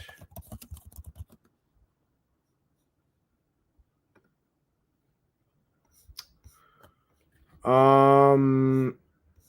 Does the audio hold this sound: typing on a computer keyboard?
yes